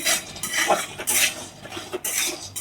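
Peanuts roast in a pan for Shravan fasting ladoos while a spoon stirs them, producing rapid rattling scrapes and metallic clinks in bursts, close and fairly loud with no one talking.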